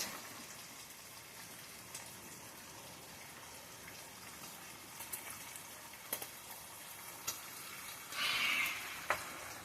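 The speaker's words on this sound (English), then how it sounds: "we're frying some bacon" Bacon frying in a pan on a small camping stove during a storm power outage, giving a steady, soft crackling hiss with scattered light pops, fairly quiet and close, with no voices.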